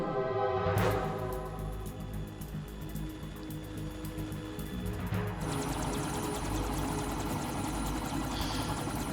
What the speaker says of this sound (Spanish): Parece que el helicóptero se ha tenido que largar de ahí